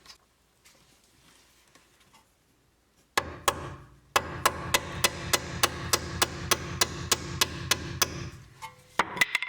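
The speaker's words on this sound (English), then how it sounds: "we're going to hammer on it a bit" Sharp metallic hammer strikes on a stuck bolt at a 2013-2019 Nissan Sentra lower control arm ring out in a fast, steady series of about a dozen blows, close and loud, after a quiet stretch.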